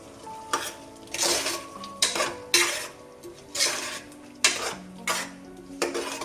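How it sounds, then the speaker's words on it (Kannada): Ground tomato going into a pan for mushroom biryani and being stirred: a metal spoon clanks and scrapes against the pan in a steady rhythm of about nine strokes, close and fairly loud, with no talking. "ರುಬ್ಬಿರ್ತಕ್ಕಂಥ ಟೊಮೆಟೊನ ಆ್ಯಡ್ ಮಾಡ್ಕೊತಾ ಇದ್ದೀನಿ"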